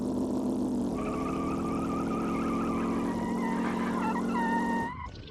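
A V16-engined car in BeamNG.drive gives off a steady, loud droning whine whose pitch jumps up about a second in, then wavers and shifts before cutting off abruptly near the end, with no voices over it.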